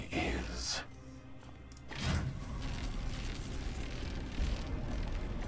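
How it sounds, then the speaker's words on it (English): A heavy rumbling death explosion in Warhammer 40k: Chaos Gate - Daemonhunters, a loud blast bursting in partway through and rolling on under game music and speech. "we can't prevent that death explosion, apparently"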